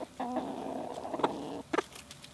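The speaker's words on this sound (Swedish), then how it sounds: "Det är liksom inte lugnt i hönsgården längre med så många tuppar." Kinda hens and several roosters in a crowded chicken yard cluck and squawk close by, with a sustained call followed by short, sharp bursts.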